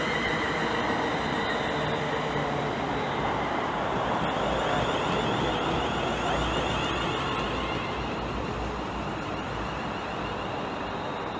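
A passenger train arrives at Hemel Hempstead station on the West Coast Main Line, rumbling loudly and continuously nearby, wheels roaring on the rails with a faint high squeal as the cars roll along.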